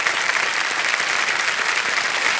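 A studio audience at a TV quiz show bursts into steady, loud applause, a dense uninterrupted wall of clapping.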